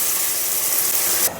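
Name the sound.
water boiling in a pot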